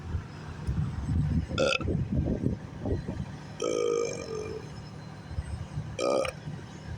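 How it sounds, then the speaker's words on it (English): Several loud, drawn-out burps close to the microphone, separated by low rumbling and handling noise. "I burp a lot."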